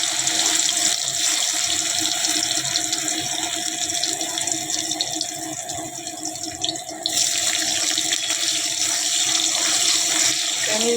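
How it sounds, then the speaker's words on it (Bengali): Paneer frying in hot refined oil in a wok, a steady close hiss and sizzle that runs without a break, easing slightly midway before picking back up. "প্রথমেই পনিরগুলো হালকা করে ভেজে নেব"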